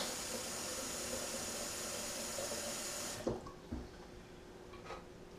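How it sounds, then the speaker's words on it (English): Water pours steadily into a batch of kombucha for about three seconds, a close, bright rushing stream that stops abruptly, followed by a few faint clinks and drips. "Now I did say to add a little water to bring that level a little higher."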